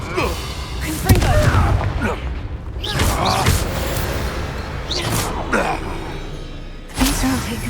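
Blasting spell explosions in the Hogwarts Legacy video game, several loud booming bursts with crackling debris spread across the passage, mixed with game combat noise and a character's voice.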